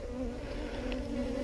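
Honeybees drone steadily around a Flow hive, a close continuous buzz with no voices.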